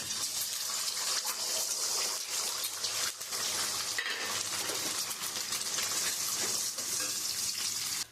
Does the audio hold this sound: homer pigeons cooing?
no